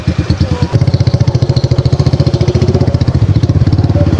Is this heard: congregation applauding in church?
no